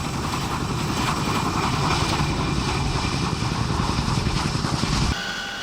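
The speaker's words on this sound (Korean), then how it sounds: "헬기 한 대가 무장한 특전대원들을 싣고 하늘로 이륙했다." A military helicopter carrying armed Korean special forces troops lifts off with a loud, steady roar of rotor and engine noise that drops away sharply near the end.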